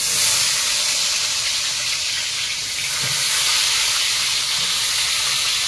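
Whole garlic and chopped onion sizzle in hot oil in a wok, a steady loud hiss and crackle that continues without a break.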